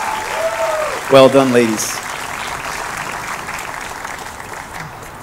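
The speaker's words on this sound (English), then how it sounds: "One more round of applause for our women's ensemble, please." Audience applause fills the room at a high school fall vocal music concert, a steady wash of clapping throughout, with someone speaking briefly over it near the start.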